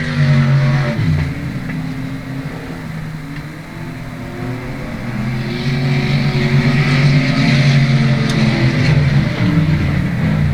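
A race car circles South Texas Speedway on its final lap, its engine loud and close with a sustained roar that rises and falls as it accelerates, and other cars' engines blend in behind it.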